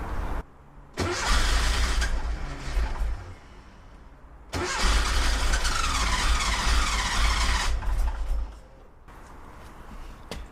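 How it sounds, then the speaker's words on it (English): Porsche 914 engine with dual Weber carburetors, just reassembled after exhaust trouble, cranking and catching in two long loud bursts with revving, separated by brief pauses, outdoors in rain. "Let's see if we can get it started just by pumping the gas"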